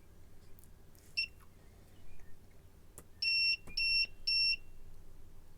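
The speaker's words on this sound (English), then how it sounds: "this time you'll hear 5 beeps or something like that from the underlying Arduino before it switches off" An Arduino board on a dual SMD and through-hole PCB shield gives a few short electronic beeps, then three evenly spaced, clear beeps before switching off, with faint background clicks.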